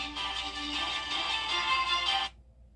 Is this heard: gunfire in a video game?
no